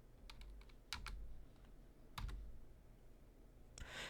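Computer keyboard keys pressed while using geometry software shortcuts: a few separate, crisp clicks spaced out over four seconds, close and fairly quiet, with no talking.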